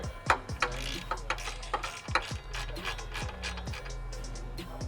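A ratchet ticks steadily in a quiet, close rhythm, each stroke a short run of clicks, while snugging a banjo bolt on a Nissan 370Z clutch line.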